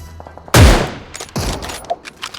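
Gunfire in PUBG Mobile: a loud, close burst of shots cracks out, followed by a second weaker burst and a few scattered distant reports.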